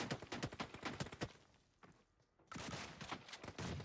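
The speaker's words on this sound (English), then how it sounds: "shots coming in from the distance towards Dauntless over here" Gunfire in a shooter video game during a tournament match, a rapid run of sharp shots, a brief lull, then more bursts, fairly faint overall.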